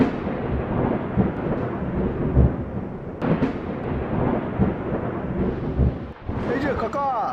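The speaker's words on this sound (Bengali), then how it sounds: "বৃষ্টিটা আর আসার সময় পেল না" Rain and thunder from a Kalboishakhi nor'wester storm at night: a steady, dense wash of rainfall with deep thunder rumbles and sharper cracks rolling through, and voices talking faintly in places.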